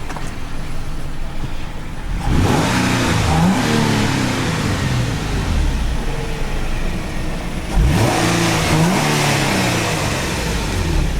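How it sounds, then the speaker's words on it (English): A 2002 Nissan Elgrand Spec-X 4WD engine is revved twice while parked, each rev rising sharply from idle then falling back, loud and close with a steady idle rumble between. "let's give it a couple of revs for you"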